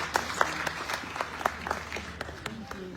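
A small group of people claps hands outdoors for departing peace walkers, with sparse, uneven individual claps standing out over light background noise rather than a dense roar.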